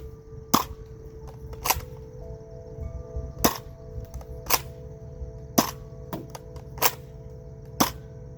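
A Nerf Scout MKII blaster firing waffle head darts: about eight sharp snapping shots spaced a second or so apart, each a crisp click-pop close to the listener, with quiet handling noise in between.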